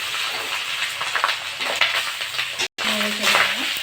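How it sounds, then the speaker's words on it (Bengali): Cooked rice for fried rice gets stirred in a frying pan, with a steady sizzle, scraping, and a brief break near the end. "নেড়ে চেড়ে দেবো,"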